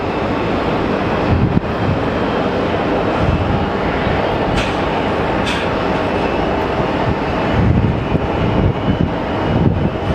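A SkyWest Embraer jet at Sky Harbor Airport gives a loud, steady roar that fills the whole clip with a constant heavy rumble. Faint whines drift in and out, and no one speaks.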